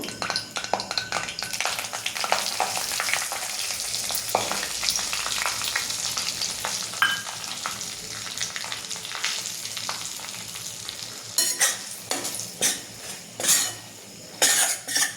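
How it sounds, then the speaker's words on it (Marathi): Gram flour roasts in melted ghee in a pan with a continuous soft sizzle and frying crackle. A spoon scrapes and clinks against the pan, and the strokes grow more distinct and rhythmic toward the end. "आता तूप वितळलंय, आपण त्याच्यात बेसन टाकून घेऊ।"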